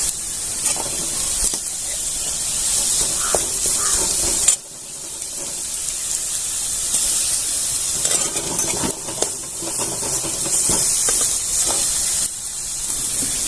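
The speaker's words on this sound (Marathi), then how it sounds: "दळून घेतलेली लाल मिरची आलं लसूण आणि कोथिंबीर थोडीशी तर ती परतून घ्यायची आपल्याला" Ground red chilli, ginger, garlic and coriander sauté with already browned onion in a pan, making a loud, continuous sizzle with scraping stirs and small pops throughout.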